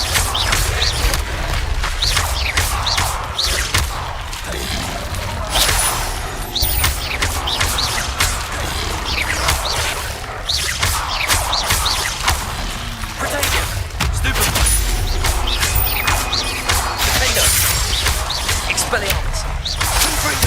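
Spell-casting effects in Hogwarts Legacy, a steady run of whooshes, cracks and blasts layered over game noise, with a voice speaking throughout.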